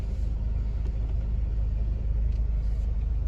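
A 2001 Mercedes-Benz W203 C180 petrol engine idles with a steady, close low rumble and an even hum that stays constant throughout, with no talking.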